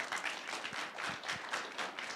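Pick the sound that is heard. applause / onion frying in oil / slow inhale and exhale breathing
applause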